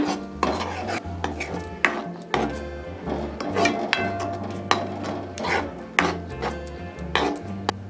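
Gram flour being stirred into spinach curry in a pan, a steady scraping and mixing with repeated utensil knocks against the pan over a low continuous hum, no talking.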